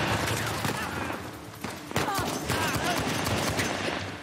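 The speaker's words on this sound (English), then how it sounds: "Oh, fuck, he's shooting me now." Gunfire in the video game Uncharted: The Lost Legacy, a dense continuous fusillade of rapid shots and sharp cracks, loud and steady throughout.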